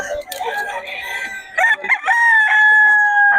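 A Sweater Gilmore gamecock rooster crows loudly and close, its long drawn-out call holding steady at the end, with clucking and other fowl calls around it.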